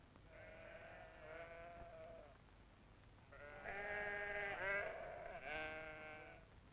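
A little black lamb bleats several times in wavering, drawn-out cries, two short calls followed by a longer, louder run of bleats, fairly close by with a faint rural background.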